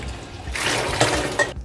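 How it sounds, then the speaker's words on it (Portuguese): Water from a kitchen tap runs over green beans being rinsed, a brief splashing trickle with a couple of sharper splashes before it cuts off. "Escorre, passa na torneira, lava bem agora e aí volta para a panela."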